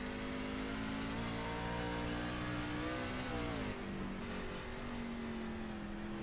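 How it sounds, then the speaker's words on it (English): A dirt-track race car in a racing video game drones continuously, its engine pitch rising and falling as the throttle is worked to keep traction, loud and steady with no talk. "You can hear how much throttle control these drivers really have to do to maintain a semblance of traction."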